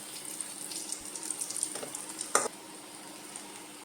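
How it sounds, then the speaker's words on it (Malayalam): Ripe bananas fry in hot oil in a pan and are turned over with a utensil. A quiet, steady sizzle runs under scraping and one sharp clink, then the sound falls away. "നമുക്ക് പെട്ടെന്ന് തന്നെ തിരിച്ചു മറിച്ചൊക്കെ ഇട്ട് ഫ്രൈ ചെയ്തെടുക്കാം"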